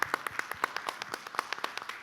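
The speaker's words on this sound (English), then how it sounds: "let's give a big round of applause to our great speakers today" A conference audience at an esports summit panel claps for the speakers: a thin, modest round of distinct hand claps at an irregular rhythm, fairly quiet and a little distant, with no voices.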